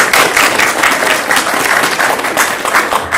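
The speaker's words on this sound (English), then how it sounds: "So we were applauding for you right then." Loud, steady applause fills the room at a school district governing board meeting, honoring the CASP director, a dense wash of clapping from a gathered audience that holds constant throughout.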